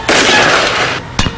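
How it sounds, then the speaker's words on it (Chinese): Rifle shots fired from a hillside at a hostage-taker target about 200 meters downslope during a special forces shooting competition; a loud sustained blast with ringing decay, then a second sharp report near the end. "对山脚下200多米处的劫持人质靶进行射击"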